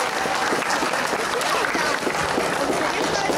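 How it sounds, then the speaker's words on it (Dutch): A crowd applauding the volunteers at the opening of the 2016 Visserijdagen fishing festival in Harlingen, dense continuous clapping heard throughout with some voices mixed in. "Een groot applaus graag voor alle vrijwilligers die dit mogelijk maken."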